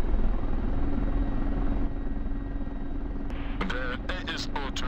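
Steady rotor and turbine drone of a Mil Mi-24P Hind helicopter in Digital Combat Simulator, loud and continuous from the cockpit, with a voice talking over it near the end.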